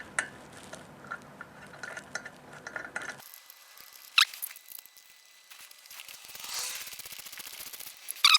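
Ratchet clicking on the torque nuts of a BMW GSA rear wheel, with sparse, scattered clicks and scrapes close by after a brief stretch of busier mechanical rattling.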